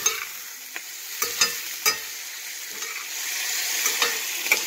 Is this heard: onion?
yes